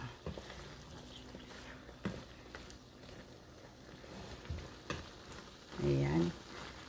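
Gai lan and assorted fish balls cooking in a pan, a soft close sizzle and bubbling with a few clinks of a utensil and a louder burst of frying near the end.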